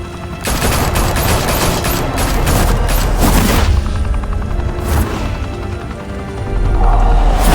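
Gunfire in the Batman Telltale Series video game: a loud, dense fusillade of rapid shots and booms crackles continuously for several seconds, close and overwhelming, then gives way to a low rumble.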